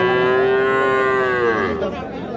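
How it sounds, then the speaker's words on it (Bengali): A crossbred bull calf at a cattle market lets out one loud, close, drawn-out moo that sags in pitch toward the end, with no voices over it. "ষাঁড় বাচ্চা"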